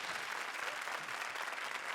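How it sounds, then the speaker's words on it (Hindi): A comedy show studio audience applauds with a dense, steady patter of many hands, moderately loud and continuous for the whole stretch, with no voices standing out. "आ जाइए जरा ताली बजाइए श्रुति के लिए।"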